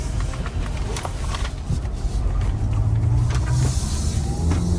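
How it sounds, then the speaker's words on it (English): A Mazda CX-5 on a test drive, heard from inside as a steady engine and road rumble that builds slightly, with tyre and wind noise and no speech. "now we go ahead with the test drive"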